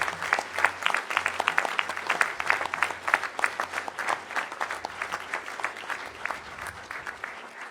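An audience claps for the administration at a municipal council installation meeting in Évry-Courcouronnes, with crisp individual claps merging into moderate, fairly sparse applause that slowly thins out.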